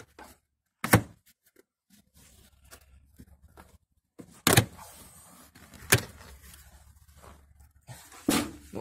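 Plastic door trim on a Ford Focus 2 is unclipped and pulled away from the car door: four sharp, loud snapping clicks spaced a few seconds apart, with quieter rustling and handling noises between them.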